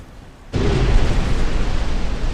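A naval shell strikes an enemy warship in Ultimate Admiral: Dreadnoughts, giving one sudden loud explosion that cuts in sharply and then rumbles on steadily without fading.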